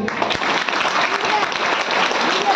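An audience at a school gathering claps steadily and densely, a loud, continuous wash of applause with no break.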